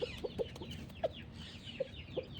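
A hen, likely a young laying bird of the Undertaker line, clucks in short, separate bursts, about six soft calls spread unevenly, close by with a low rumble of background noise.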